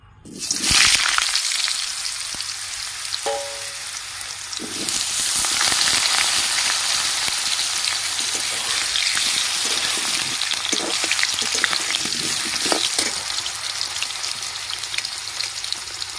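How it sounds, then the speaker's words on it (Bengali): Steady, loud sizzling of potatoes frying in hot oil in a wok, a dense crackling hiss that fills the whole clip with small pops scattered throughout. "কড়াইয়ের তেল গরম হয়ে গেছে এবার আমি আলুগুলো একটু ভেজে নেব"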